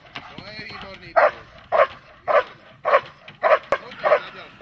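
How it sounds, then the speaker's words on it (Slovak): A police working dog barks repeatedly during K9 training, sharp evenly spaced barks roughly every half second, loud and close, with a handler's voice heard at the start. "To je výborný pes."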